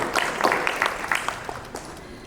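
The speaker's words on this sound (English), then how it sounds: "A huge round of applause for Shri Damodaran." A brief round of applause for a speaker at a summit's inaugural session, with scattered, fairly close claps that thin out and fade within a couple of seconds.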